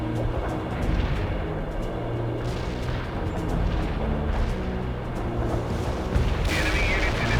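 Artillery fire in the Cold War strategy game World in Conflict rumbles as a thick, continuous barrage of booms and distant impacts, rolling on without pause over low battle noise.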